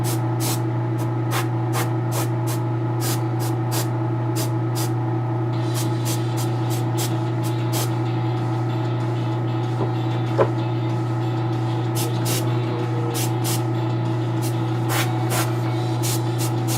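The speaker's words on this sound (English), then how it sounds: "we gotta hit this with some Testor's dull coat" Testor's Dull Coat aerosol sprayed onto a Jessica Rabbit model in a long series of short, sharp hissing bursts, spaced irregularly, over a steady low electrical hum with no talking.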